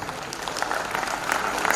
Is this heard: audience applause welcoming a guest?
yes